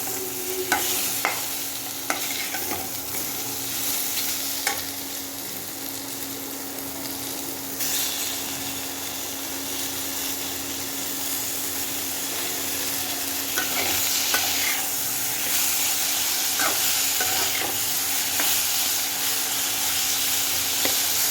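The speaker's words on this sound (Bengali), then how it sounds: "পটল আলু পেঁয়াজ ভালো করে ভাজা হয়ে গেছে, এর মধ্যে দিয়ে দেবো টমেটো কুচি।" Pointed gourd, potato, onion and chopped tomato fry in a pan for a hilsa dish, a constant loud sizzle broken by repeated scraping stirs of a spatula, close up and without talk.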